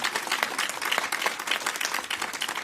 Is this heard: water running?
no